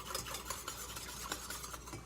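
A spoon stirs honey into hot sweet tea, a soft, continuous swishing and light scraping with faint clinks against the cup.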